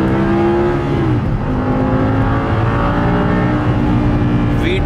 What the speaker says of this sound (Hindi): इसको जब मैं करता हूँ डाउन शिफ्ट तो गाड़ी की आवाज़ बदल जाती है।